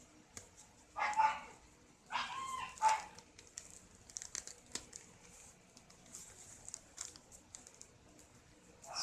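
Excited dogs barking in short bursts indoors, faint to moderate, mixed with light tapping and clicking sounds.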